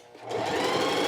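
A sewing machine stitching around a homemade t-shirt, a close, loud rapid whir that starts and builds to a steady run over about a second.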